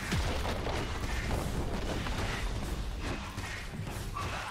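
A turret is destroyed in a League of Legends match, giving a dense, booming explosion with heavy low rumble that holds steady for a few seconds amid game effects.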